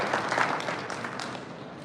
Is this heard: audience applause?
yes